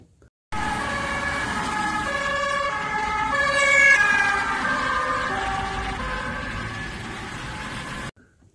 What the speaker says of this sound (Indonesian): Lihat teman-teman, di sini ternyata ada ambulan.